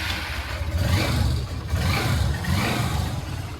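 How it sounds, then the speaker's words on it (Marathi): A car engine runs steadily close by, its low rumble holding even with small swells as if revving lightly, no voices over it. "गाडी चालू झाली"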